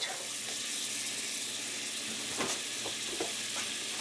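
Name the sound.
roast beef searing in hot pan on woodstove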